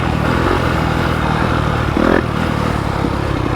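A Yamaha YZ250FX dirt bike fitted with a 270 big bore kit and Hotcams stage 2 cams runs with a loud, continuous engine drone that swells briefly in a short rev before settling back.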